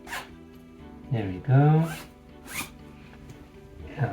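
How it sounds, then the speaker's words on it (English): A zipper drawn up on a baby's sleep sack gives one short, bright zip, heard close up. Someone speaks softly before and after it. "We're gonna zip you up."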